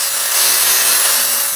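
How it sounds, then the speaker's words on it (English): A tool cuts off a piece of material for a DIY RC snow plow, giving a continuous close rasping, grinding noise that stays loud and steady for the whole moment. "I'm gonna cut it off about here where my finger is"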